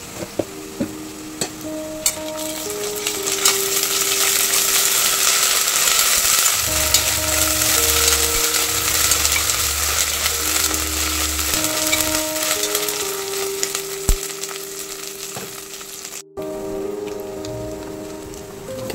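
Onions with ginger garlic paste fry in a pan for a palak mushroom pulao. A loud, dense sizzle carries on steadily, with occasional stirring clatter and a low hum in the background, and no one talks.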